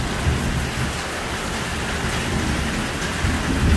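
Heavy rain pours in a loud, constant roar of drops, with low rumbles of thunder rolling beneath the downpour.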